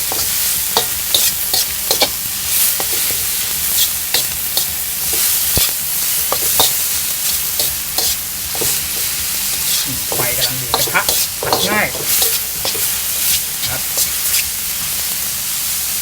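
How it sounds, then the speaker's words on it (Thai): Dried chillies dry-roasting in a hot wok: dry stirring and scraping with a soft crackling sizzle and bursts of hiss, continuous and close. "เอาพริกแห้งมาคั่วกระทะก่อน ให้เกิดความหอมแล้วก็ เอามาใช้ผัด"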